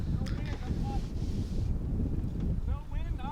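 Wind gusts across a disc golf course, a steady low buffeting rumble on the microphone with faint voices and small high chirps far in the background.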